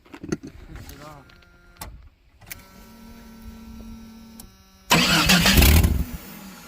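A Chevrolet plow truck engine cranks and catches after a few clicks and brief whirring sounds, then bursts into a loud rough roar near the end, with a person speaking over the quieter part.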